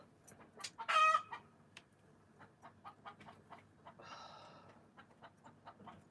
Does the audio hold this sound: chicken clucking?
yes